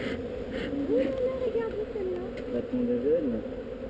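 A loud, low drone of honey bees stirred by smoke during a honey harvest sits beneath someone talking, the hum steady and close as his voice rises and falls over it.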